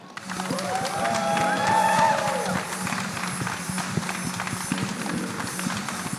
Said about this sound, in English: a big round of applause for Siddharth Vinayak Patankar